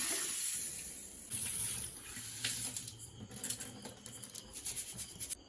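Horse gram is rinsed under a running kitchen tap, water splashing and gurgling into a sink with uneven bursts as the grains are stirred and handled.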